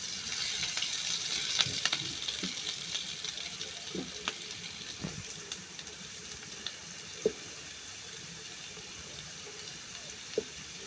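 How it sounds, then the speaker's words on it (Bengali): Potatoes fry gently in oil over low heat for a spicy potato and chicken roll, making a continuous low sizzle with scattered small pops and faint clinks. Nobody speaks. "তারপর আমি সরিয়ে রাখা আলুগুলাকে হালকা আঁচে ফ্রাই করে নেব।"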